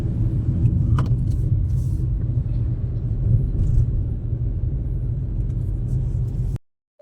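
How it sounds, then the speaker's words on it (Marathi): Steady low engine rumble and road noise from inside a moving car on a highway drive, continuous and close, ending abruptly near the end. "आता गाडी चौधरी काका चालवत आहेत"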